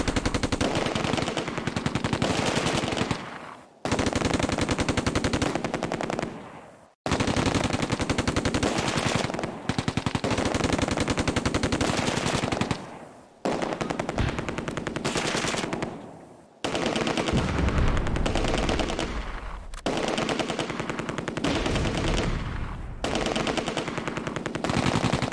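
Bursts of machine-gun and rifle fire from the war game Close Combat: A Bridge Too Far, heard as loud sustained rattling volleys broken by short pauses, with no voices.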